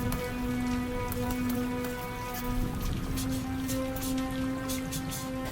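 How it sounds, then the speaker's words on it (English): Steady rain patters continuously on a surface, a dense even hiss with a low droning hum underneath throughout. "I talk in the rain."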